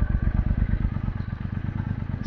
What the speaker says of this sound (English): I'm going to try and open it up and get full throttle to see what the timing's doing under full throttle conditions.